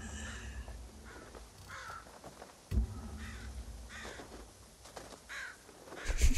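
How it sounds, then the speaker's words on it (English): Crows caw in the video game Ghost of Tsushima, a handful of harsh calls spread across several seconds at moderate loudness over a steady low ambient bed, with a thump near the middle. "Those crows are so confused."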